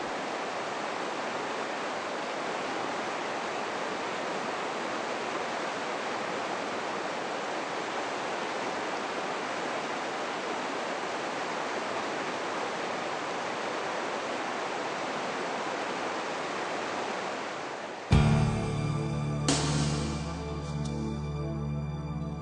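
The Merced River in Yosemite Valley, swollen with spring snowmelt, rushes in a steady broadband roar that runs continuously, then cuts off abruptly near the end, replaced by other brief sounds.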